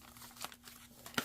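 Paper is folded back for a junk journal, a couple of soft, brief crinkles and crisp rustles, faint and close by with no talking.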